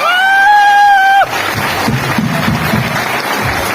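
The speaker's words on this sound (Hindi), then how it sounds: "तालियों से स्वागत कीजिए।" After a loud sustained whistle-like tone cuts off, an audience at a stage event bursts into applause and cheering to welcome a speaker, a dense clapping crowd with excited shouts mixed in.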